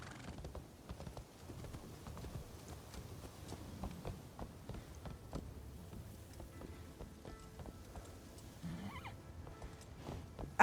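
A horse in the Assassin's Creed Shadows video game, heard while crossing the Seta Bridge, with a soft rhythmic clatter of hooves throughout and a faint whinny near the end, all fairly quiet.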